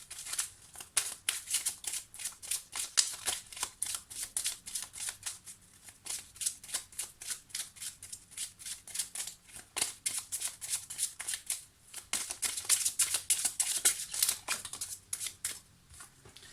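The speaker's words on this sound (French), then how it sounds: "Alors Maya, je vais donc me concentrer sur votre demande pendant que je prépare votre tirage." Petit Lenormand cards being shuffled for a reading, a steady stream of crisp riffling and sliding card noises running continuously with brief pauses, close and alone without any talk.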